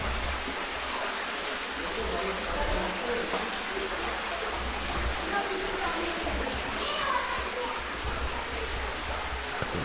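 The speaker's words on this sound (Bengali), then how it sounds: "এই যে একটা ছোট্ট ঝর্ণা" A small waterfall trickles inside Alutila cave, a steady rushing, splashing wash of water that stays fairly loud and even throughout without clear pauses.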